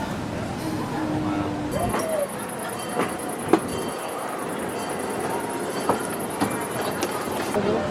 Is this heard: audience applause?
no